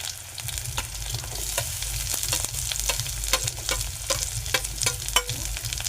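Onion fries in hot oil with chopped green chillies, crackling steadily with frequent sharp pops and the scrape of a spatula stirring close by.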